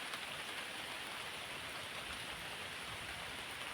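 Steady, even rain falling as a soft continuous hiss, fairly quiet and unbroken throughout.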